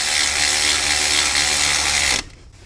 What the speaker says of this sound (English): If you have electric drill like me,